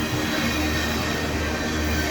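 An empty ethanol train rolls slowly along a siding toward a signal, giving a steady, close rumble with faint wheel squeal and no talking.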